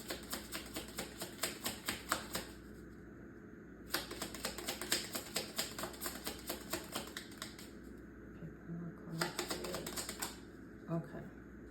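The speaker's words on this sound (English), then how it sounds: "I didn't even get a good shuffle out with cards just falling out." Tarot cards being shuffled: quiet bursts of quick, fluttering clicks as the deck is riffled, coming in three separate runs with short gaps between them, close and soft, with faint talking in places.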